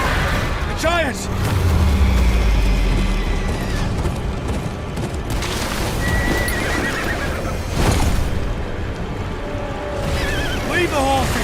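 Horses whinny several times and hooves clatter amid a busy battle scene in the Game of Thrones: Kingsroad video game, with booming effects and voices talking over the noise.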